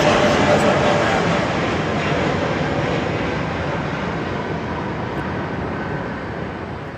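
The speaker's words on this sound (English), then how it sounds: "What's so loud? The plane. We're right next to the airport." A fixed-wing airplane passing close by right next to an airport, a loud continuous broadband roar that slowly eases in level, heard from a breakfast spot during a convention day.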